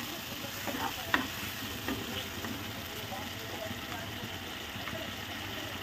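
Spices frying with tomato puree in a pan for dhaba-style rajma, a low steady sizzle with a few faint spoon scrapes, quiet and close, with a soft hum underneath.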